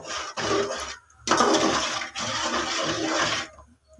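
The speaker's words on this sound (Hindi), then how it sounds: "अब इसमें जो मैंने गोश्त जिसमें बॉयल किया था ना वो पानी इसमें मैं ऐड कर रही हूँ ताकि बस हल्की हल्की ग्रेवी हो।" Boiled mutton stock is poured into a pot of achari mutton curry to make a light gravy, giving bursts of splashing, gushing liquid with a short pause between pours and no talking.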